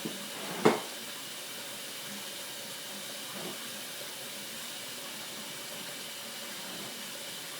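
Turkey burgers sizzle in a pan with a steady, soft hiss that runs throughout at low volume, interrupted by one sharp clank early on and a fainter knock later.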